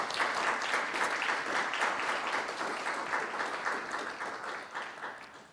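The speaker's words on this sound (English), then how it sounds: "I think that's worth a round of applause." An audience at a Caribbean Studies Association conference plenary session gives a round of applause, dense steady clapping from many hands that holds for several seconds and then gradually thins out.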